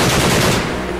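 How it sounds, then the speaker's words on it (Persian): A DShK heavy machine gun fires at helicopters in a film battle sound effect, a loud, dense burst of rapid shots that blur together into a continuous roar and then begin to fade. "با دوشکا به طرف 3 بالگرد آمریکایی شلیک میکردن"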